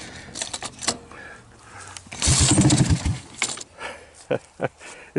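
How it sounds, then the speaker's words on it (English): Honda ATC185 three-wheeler on a cold start with choke on, clicks and a cranking attempt that briefly catches into a rough burst of engine noise, then stutters and dies into more clicks; someone speaks near the start. "Engine on."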